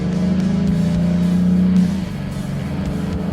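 Ineos Grenadier engine pulling away in off-road sand and mud throttle mode, a steady loud drone that swells gently rather than snapping, then eases off partway through.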